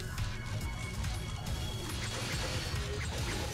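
Objects being smashed in the video game Devil May Cry 2, a steady run of dense crashing and whacking impacts with a busy game soundtrack, with no talk over it.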